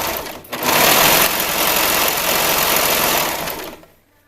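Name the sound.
sewing machine sewing elastic onto swim bottoms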